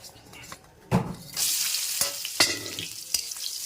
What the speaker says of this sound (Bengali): মাছের তেলটা এখন ভাজা করে নেব। তার জন্য দেখো পেঁয়াজের লঙ্কা তেলের উপরে দিয়ে দিয়েছি